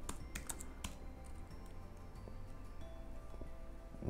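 Fingers tap steadily at a computer keyboard while a novel is transcribed, with a fast, even patter of key clicks close by and quiet in a still room.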